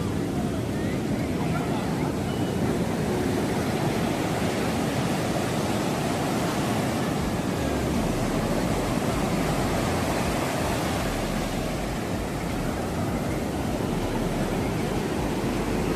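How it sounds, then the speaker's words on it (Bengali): Ocean waves at Puri Beach roar in a steady, dense wash of noise, with gusty wind buffeting the microphone throughout. "আমরা ঢেউয়ের সাথে সমুদ্রের গর্জনকেও শুনতে পাচ্ছি"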